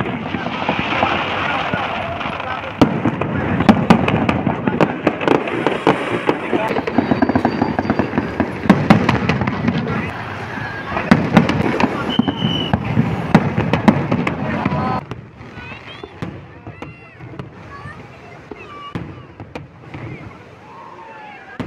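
Fireworks burst during the 2025 Navy operational demonstration at RK Beach, Visakhapatnam, with repeated sharp cracks and booms over constant crowd noise and chatter, fading to a quieter murmur near the end.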